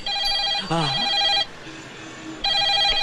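A telephone rings with an electronic trill, two bursts separated by a pause, while a voice briefly speaks over the first ring.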